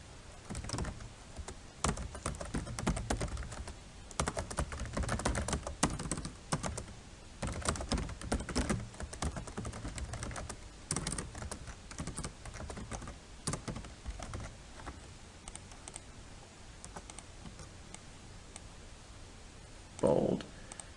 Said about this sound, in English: Well, you have to type it again.